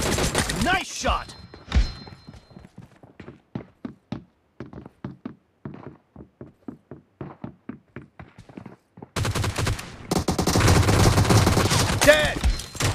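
Gunfire in the Arena Gun Game mode of a video game: after a few opening shots, a long run of sharp single shots and quick bursts pops at an irregular rhythm, ending in a dense, loud stretch of continuous firing.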